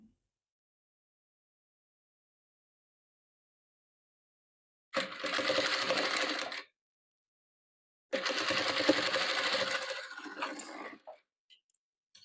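A sewing machine stitches patchwork in two steady runs of rapid mechanical whirring, each lasting a couple of seconds, separated by silence, close and moderately loud.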